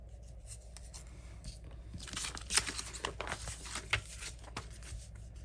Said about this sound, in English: Let me get my scissors and cut.